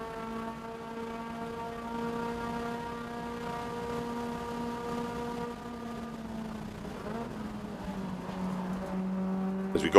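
A race car engine at an SCCA road race at Road America holds a steady high whine, its pitch sliding lower toward the end as it passes at moderate distance, with no commentary over it.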